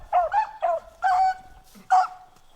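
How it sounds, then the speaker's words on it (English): Hunting dogs on a rabbit chase in Michigan bay and bark in a series of distinct yelps and howls, about five calls spaced irregularly, moderately near and carrying clearly over an otherwise quiet outdoor background. "Dogs are coming right to him."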